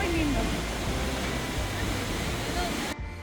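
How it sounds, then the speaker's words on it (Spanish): Waterfall near Pucón in Chile, a steady, loud broadband rush of falling water close by that fills the whole scene without a break. "Cascada atrás y este tremendo lugar."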